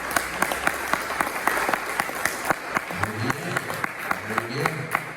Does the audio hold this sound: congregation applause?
yes